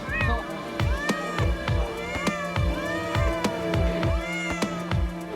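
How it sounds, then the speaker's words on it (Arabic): A 13-year-old cat meows repeatedly in a steady series of close, loud calls, with no speech over them. "أكبر بسة أو قطوة موجودة هنا، البسة هذه عمرها 13 سنة"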